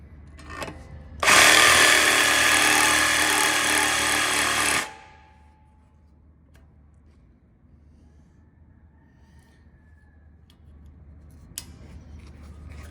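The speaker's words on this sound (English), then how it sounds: "So get a small bladed Sawzall blade. And then you cut through." A Sawzall reciprocating saw with a small blade cuts through a notch while disassembling a 2018 Perkins lifter, giving a loud, close, harsh buzz for about four seconds before stopping abruptly, followed by quiet and a faint click.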